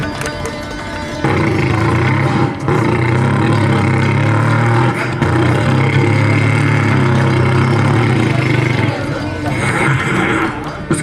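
A voice imitates a Bullet motorbike engine at a stage poetry event, a steady low rumbling drone held for about eight seconds with slight revving swells, loud and close.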